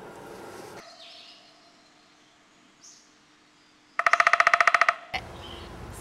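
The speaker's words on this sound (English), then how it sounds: "So when you're IDing birds, like this one" An outdoor bird call is heard as a couple of faint chirps early on, then a loud, rapid burst of evenly spaced clicking notes for about a second, close by, against quiet background noise without speech.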